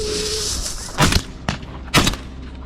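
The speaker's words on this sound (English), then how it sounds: "I carefully lined up the shot through my scope, squeezed the trigger decisively" Rifle shots during a wild boar hunt, two sharp loud reports about a second apart, each with a short boom and tail, plus a fainter crack between them over steady outdoor background noise.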